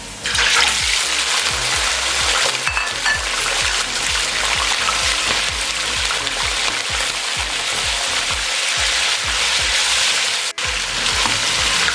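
Boneless chicken, cut into small pieces, frying in oil in a kadai for karahi, giving a loud, steady sizzling hiss throughout with low rhythmic clatter underneath and a brief break near the end.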